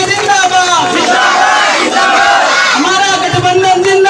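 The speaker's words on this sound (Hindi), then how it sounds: "पूरे समाज की तरफ से, पूरे युवाओं की तरफ से जोरदार तालियां बजा करके साथियों का स्वागत करें।" A large crowd at a Bahujan Samaj Party political rally cheers and shouts in unison, a loud, continuous wall of voices that swells and holds throughout.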